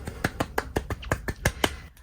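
About ten sharp claps or snaps land in quick, fairly even succession, close and crisp, with no voices.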